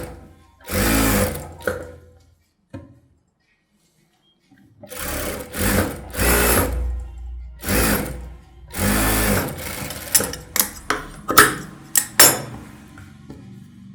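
Sewing machine stitching the band of a blouse, running in several loud close bursts of rapid whirring with short pauses between, later broken into shorter stop-start runs and clicks.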